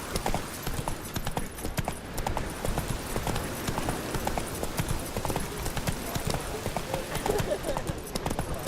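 Hooves pound continuously as Roach, the horse in The Witcher 3, gallops, a dense and fairly soft drumming that carries on without a break.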